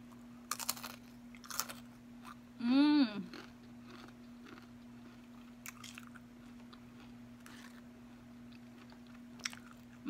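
Crunchy bites and chewing of a pickle wrapped in a spicy rolled Taki tortilla chip and dipped in ranch, one loud close crunch burst amid quieter chewing and mouth sounds.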